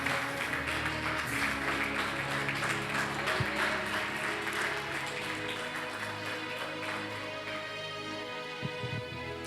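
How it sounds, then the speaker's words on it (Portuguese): A church congregation at a Sunday service stands and applauds Jesus, producing a continuous, moderately distant clapping that slowly thins over several seconds. A sustained musical tone lingers underneath. "Fica de pé aplaudindo a Jesus Cristo de Nazaré."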